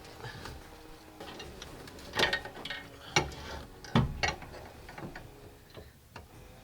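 A socket wrench with a 15 mm deep socket works loose the front bolts on a van. Its ratchet gives close, sharp clicks that come in uneven bursts, with a few louder clunks among them.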